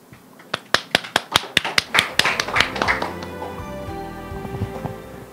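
At an urban agriculture symposium, a run of sharp, evenly spaced claps speeds into a brief patter of applause for a speaker, then fades under a soft musical tone.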